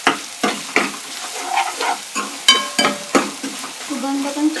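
Chicken sukka masala is stirred in hot oil: a spatula scrapes and knocks the pan in quick irregular strokes over a lively close sizzle.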